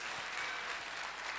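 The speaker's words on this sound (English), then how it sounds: "Let's encourage them by giving them a big round of applause." School annual day audience applauding after a children's performance, a dense, steady wash of clapping that stays even throughout a brief stretch.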